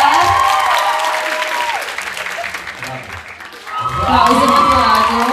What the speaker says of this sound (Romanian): Aplauze pentru Cezar.